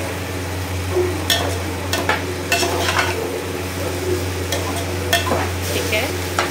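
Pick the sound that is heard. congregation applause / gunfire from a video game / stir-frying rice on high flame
stir-frying rice on high flame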